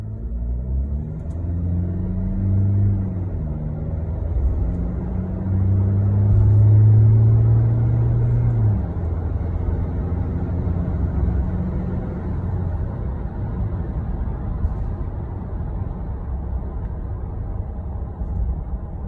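A 2020 SsangYong Rexton Sports 4WD Prestige pickup with a six-speed automatic, heard from inside the cabin as a steady low engine rumble that swells while accelerating, then settles into a continuous drone of road and engine noise.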